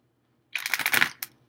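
A brief riffle of tarot cards being shuffled, a quick papery flutter followed by a single soft tap, close and fairly quiet.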